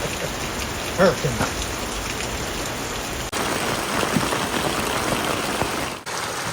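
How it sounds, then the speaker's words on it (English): Cold rain mixed with hail falls steadily at a campsite, a dense, even patter with a few louder drops. The sound is continuous from start to finish, with no voices. "we literally just had hail. I mean, rain, hail, cold rain."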